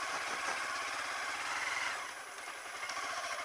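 Motorcycle engine idling near a bridge, a steady low mechanical hum with faint vibration that dips slightly in level partway through, with no talk over it.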